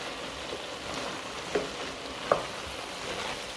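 Bean sauce being stirred in a pot after a tablespoon of flour goes in, a steady bubbling sizzle with two soft clinks of the spoon against the pot.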